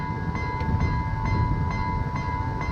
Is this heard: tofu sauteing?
no